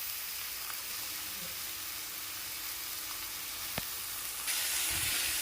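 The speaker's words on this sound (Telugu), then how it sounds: "క్యారెట్, క్యాప్సికమ్, బీన్స్ అన్ని వెజిటేబుల్స్ లైట్గా వేపేసుకున్నాం." Carrot, capsicum and beans fry lightly in a pan with a steady soft sizzle and hiss, a brief clink midway, and the sizzle swelling louder near the end.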